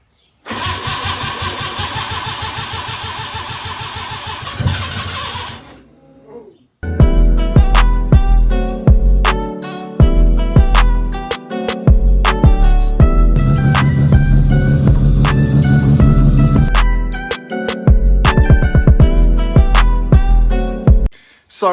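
A Mazda RX-7 fitted with a newly converted EFI system runs loudly and steadily close by for a few seconds, then cuts out, then fires up again and runs with sharp, repeated revving bursts and brief dips.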